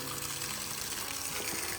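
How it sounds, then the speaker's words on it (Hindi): Water gushing steadily from a pipe fed by a newly installed pump at a new village home, a continuous splashing flow with a faint mechanical hum beneath, moderately close and uninterrupted. "अभी पानी आ रहा है।"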